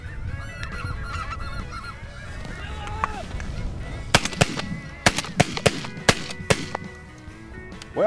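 Geese honk and clamor near and far during a waterfowl hunt over a white decoy spread in Saskatchewan, Canada, and a rapid string of sharp shotgun blasts cracks through the middle of the calling.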